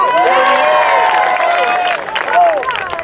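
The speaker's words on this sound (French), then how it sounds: "On peut applaudir" Applause and cheering from a crowd at a Breton pardon gathering, clapping mixed with high shouted voices and excited calls, loud and busy throughout.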